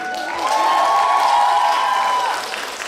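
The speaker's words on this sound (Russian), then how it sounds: "Ваши аплодисменты ей." An audience at a dance competition awards ceremony in Khabarovsk claps and cheers, with a sustained high shout carried over close, loud applause that swells and then fades out.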